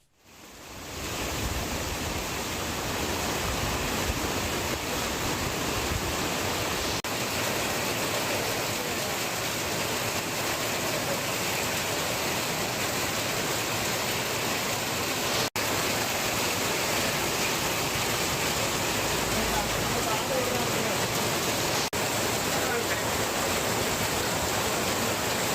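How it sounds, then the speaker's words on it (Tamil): Heavy rain pours steadily in Nagapattinam during a deep-depression downpour, a dense, unbroken hiss that stays loud and constant from start to finish with no voices. "நாகையில் அதிகாலை முதல் கனமழை வெளுத்து வாங்கி வருகிறது"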